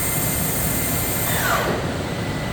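A Yama Seiki VP-2012HD CNC bridge mill spindle runs at 2,500 RPM, giving a steady, even broadband whir with a faint high tone, continuous and alone without talk.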